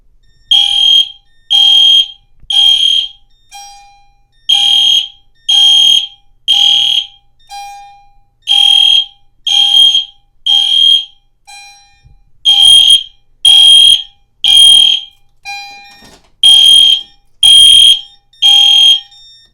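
A loud EST/Edwards fire alarm sounds during a system test in a repeating pattern of sharp electronic beeps, about one per second, with brief gaps and no talk.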